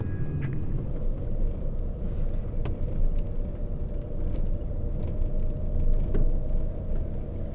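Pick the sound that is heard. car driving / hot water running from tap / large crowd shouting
car driving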